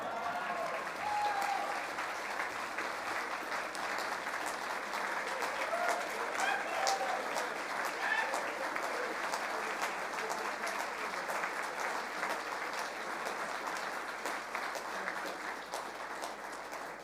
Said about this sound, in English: one more round of applause for the Honourable Shane Jones